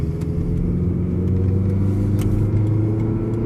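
Car on a pre-purchase test drive with new brakes and rotors, a steady low engine hum and road rumble heard from inside the cabin, with faint small clicks.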